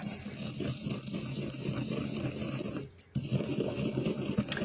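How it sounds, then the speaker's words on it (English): A pestle grinds coriander seeds in a mortar, a steady close gritty rasp that goes on throughout. It stops briefly once and then carries on, with no talk. "I've got a 1/2 teaspoon of coriander, but I didn't have any ground, so we're going to grind that up."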